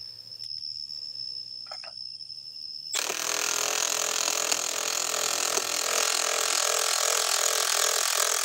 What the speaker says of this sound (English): Speed 1 on the Surge from Milwaukee M12. Too slow. Let's go to speed 2.